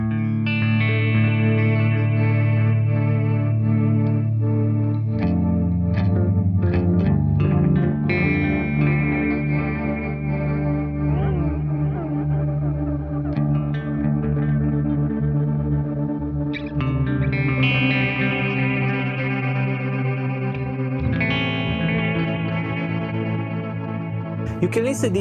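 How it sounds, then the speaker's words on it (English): Walrus Audio Fable pedal running a forward delay into an octave-up granular program, sustained shimmering guitar tones with layered echoes and pitched-up grainy repeats that swell and shift across the passage. "the second program is the forward delay into octave up granular."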